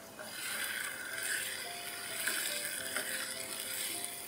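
Marinated chicken stirred into softened onions in a hot pan for dum chicken, giving a steady hiss of sizzling with light scraping and rattling of the spoon, moderately close and with no talk.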